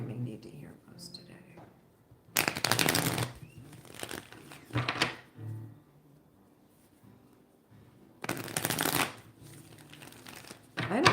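Tarot cards are shuffled in two short, crisp riffling bursts separated by quieter stretches, with soft whispered speech in between.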